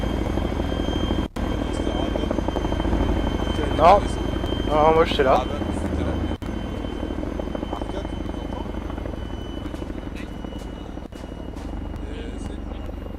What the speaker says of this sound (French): Si vous descendez pas tous de l'hélico, il va rester là jusqu'à la fin de la partie